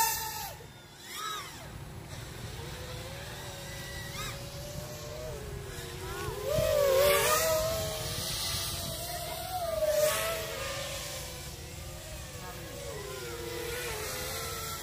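A Tyro99 FPV racing drone flies in an open field and punches out at high throttle, with buzzing motor whines that sweep up and down in pitch, loudest around the middle, and faint voices in the background.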